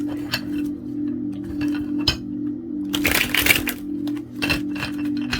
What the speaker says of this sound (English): I'm not even counting how many times I'm shuffling, so let me just do 3 more times